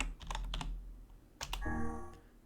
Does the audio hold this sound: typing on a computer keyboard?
yes